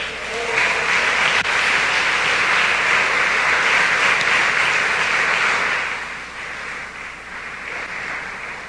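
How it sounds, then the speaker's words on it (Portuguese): A church congregation applauds during a sermon, a broad sustained roar of clapping that fades after about six seconds into quieter scattered claps. "Vamos aplaudir ao Senhor."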